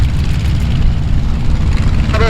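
A twin-engine airplane lines up for takeoff at Oshkosh during EAA AirVenture, its engines a loud, steady, low rumble and drone close by, with a radio voice talking over it.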